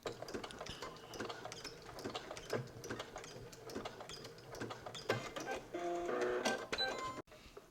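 A sewing machine stitches and back-stitches a knit dress in short bursts. Each burst is quick and mechanical with clicks between them, and a longer, denser run of stitching comes near the end.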